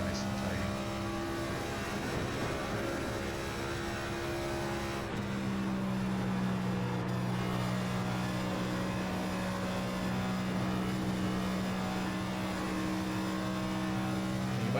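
A NASCAR NextGen race car in iRacing held in fifth gear, its engine droning at a steady pitch that shifts slightly once partway through, loud and continuous with no gear changes.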